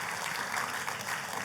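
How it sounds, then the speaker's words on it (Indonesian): A church congregation claps during a sermon, a steady wash of applause that is even and moderately distant throughout the short moment. "Tepuk tangannya yang paling meriah orang-orang yang bahagia."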